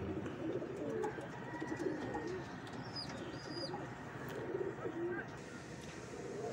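Pigeons kept for sale in Kerala coo softly amid a steady, noisy background with faint chirps throughout.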